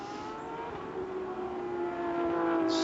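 Porsche Carrera Cup race cars circle Watkins Glen at reduced speed behind a safety car, a steady engine drone holding at moderate distance and rising slightly toward the end.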